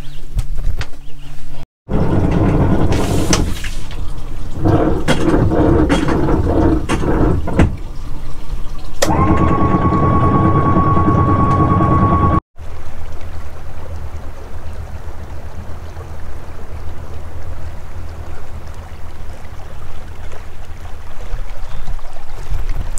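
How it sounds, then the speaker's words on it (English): A small live-aboard cruising boat's engine starts and runs steadily on a calm day on Georgian Bay, a continuous low rumble with water wash, a short tonal whine partway through, then a steady drone to the end. "So Julia, can you go start the engine now?"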